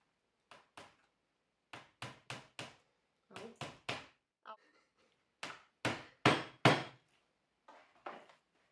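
Nails go into a bamboo floral decoration, struck with sharp hammer blows that come in close groups of two to four, loud and near, each with a short wooden knock and silent gaps between the groups.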